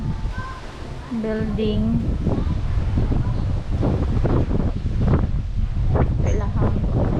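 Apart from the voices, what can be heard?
strong wind outdoors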